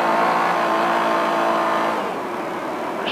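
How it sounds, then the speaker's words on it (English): A rally car drifts through a desert rally stage, its engine a loud, steady close roar with harmonic drone that eases slightly toward the end, gravel and tyre hiss underneath. "Just drifting."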